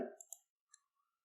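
A computer mouse clicks while CorelDraw software is in use, giving two or three crisp clicks close by and then a faint fading tone in near silence.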